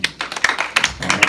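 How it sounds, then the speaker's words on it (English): A church congregation claps in praise, with quick, close bursts of hand claps coming in uneven clusters. "I'll give them a hand clap of praise."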